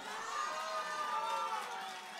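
A concert crowd cheers and applauds for a band in a steady, roaring wash of noise, with no pause over the short stretch.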